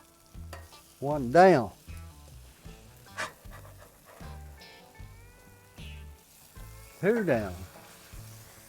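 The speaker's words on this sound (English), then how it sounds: "Now we gotta flip these old burgers over." Double smashburger patties sizzle and crackle on a hot griddle as a spatula scrapes under and flips them, with someone talking and counting over the frying throughout.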